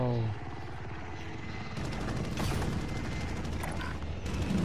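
Helicopter rotor chop from a video game thrums steadily at close range in the game mix, joined by mechanical clanks and game effects, with a player's voice faintly present.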